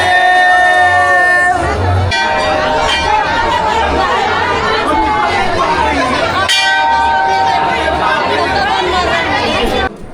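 A large, loud crowd of worshippers at Gopeshwar Mahadev temple in Vrindavan: steady dense chatter and babble throughout, with temple bells ringing out near the start and again midway.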